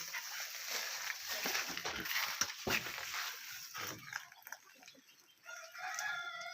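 Free-range country hens on a poultry farm cluck faintly and intermittently at two on a hot summer afternoon, scratching in husk litter. The sound is soft and somewhat distant, with brief crowing amid low background noise.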